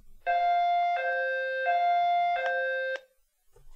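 Synthetic fire engine siren from a children's music game app: a steady electronic two-tone horn repeating in short held blasts, loud and close, with no talking.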